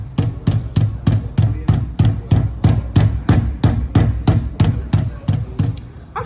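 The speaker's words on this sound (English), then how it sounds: "I will using the hammer." A hammer pounds a fresh papyrus stalk to crush its fibers, delivering a steady run of about sixteen close, heavy thuds at an even, quick rhythm with no pauses.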